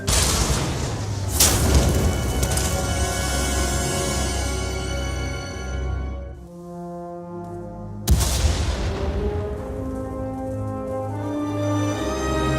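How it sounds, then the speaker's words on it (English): Deep, rumbling explosions in the video game SWTOR roll through a loud, dense soundscape, with a sharp blast near the start, a brief lull, then another sudden burst. "We heard explosions. The tunnel collapsed."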